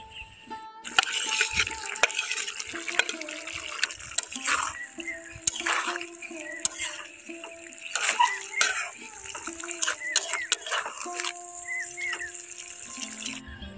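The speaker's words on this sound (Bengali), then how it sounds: "এখন আমি ভেজে রাখা বেগুনগুলো এখানে দিয়ে দেব।" Fried eggplant pieces go into a watery curry gravy and get stirred, producing wet sloshing and splashing in the pot, with someone talking over the sounds.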